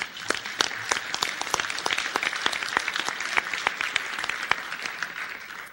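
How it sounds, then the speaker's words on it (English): Audience applause at a Toledo Rotary club meeting, members clapping for their polio eradication effort; brisk, dense clapping with distinct sharp hand claps throughout, close and lively. "So please give yourselves a big round of applause."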